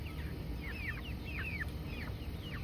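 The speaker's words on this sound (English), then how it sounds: "You're outdoor chickens now." Chickens kept outdoors in their paddock give short, rising chirps and clucks in quick scattered bursts, faint and somewhat distant over a low steady background hum.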